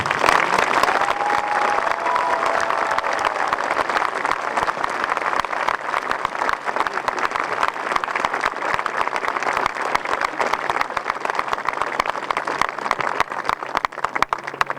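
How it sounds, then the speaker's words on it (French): Outdoor audience applauding at the close of an evening sound and light show in Brebotte, a dense, steady wash of clapping from a large crowd lasting throughout with no let-up. "je pense que vous pouvez les applaudir encore plus fort, s'il vous plaît"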